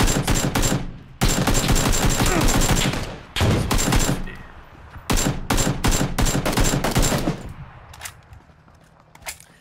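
Bursts of rapid automatic gunfire in a battle-royale shooter game, loud, dense volleys separated by short pauses, then a few single shots and quieter rattles near the end.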